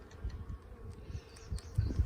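Honeybees buzz around an opened hive after a swarm's first winter, a low, steady hum of many insects close by, with faint ticks and rustles on top and no talking.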